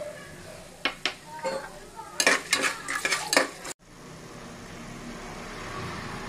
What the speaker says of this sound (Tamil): எண்ணெய் காஞ்சதும் தனியா, உடச்சக்கல்ல, மிளகு, சீரகம், சோம்பு எல்லாம் போட்டுக்கலாம்.